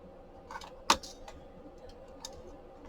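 Paper being trimmed for a layered envelope flip pocket folio craft project: one sharp, close snap of a cut lands near the middle, surrounded by faint rustling and a few small clicks, with no talking.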